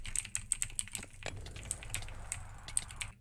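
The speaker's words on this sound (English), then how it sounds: "you just spam A and D really loud on your mechanical keyboard" Rapid, loud typing on a mechanical keyboard, the A and D keys hammered repeatedly while playing Hypixel Bedwars; a dense, continuous stream of sharp clicks with no talking.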